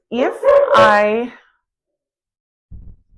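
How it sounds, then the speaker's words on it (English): A dog lets out a loud, close bark with a short yelping burst, then falls silent before a faint second sound near the end. "They might start barking again"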